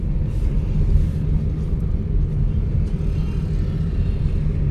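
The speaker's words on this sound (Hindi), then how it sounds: "अब रेस देनी शुरू कर दो" A car engine revving in third gear while driving, a steady loud low rumble with road noise that holds throughout, no speech.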